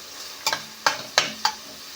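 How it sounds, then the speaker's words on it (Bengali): Four sharp scraping stirs of a spatula in a pan, spaced irregularly, over a light, steady sizzle of chopped onion frying for semolina upma. "পেঁয়াজ কুচি দিয়ে অল্প একটু নেড়ে নেব"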